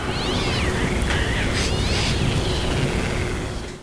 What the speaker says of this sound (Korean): 고양이와 새가 싸우는 소리가 들리고